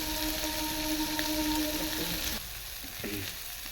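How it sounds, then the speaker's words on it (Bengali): Dried fish and vegetables stir-fried in oil, a steady close sizzle with scraping stirs, dropping quieter partway through. "তারপরে আবার তেল ছড়িয়ে নাড়ানো হচ্ছে, ভালো করে লাল লাল করে ভেজে নেওয়া হচ্ছে।"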